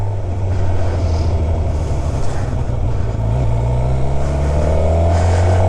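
A 2013 Suzuki Gixxer 750 motorcycle is being ridden, its engine a steady, loud drone under heavy wind rush, with the pitch rising slightly toward the end.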